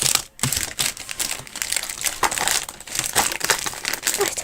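Plastic wrapping crinkles and crackles continuously at close range, a busy run of dense rustling bursts while parcel items are unpacked.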